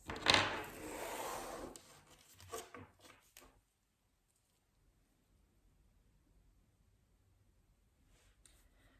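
Tarot cards are shuffled in a quick burst of crisp riffling and rubbing for about three seconds, then near silence with faint handling.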